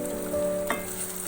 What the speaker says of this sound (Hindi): अब मैं इसके अंदर टमाटर शामिल करूँगी।